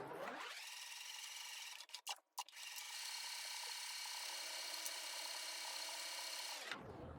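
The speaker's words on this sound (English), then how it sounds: "Make sure to back stitch or lock stitch, whatever you prefer." A sewing machine back-stitches knit fabric for a sailor bow. Its motor runs as a steady, even whir for several seconds, broken once by a brief stop and a few knocks before it whirs again and winds down.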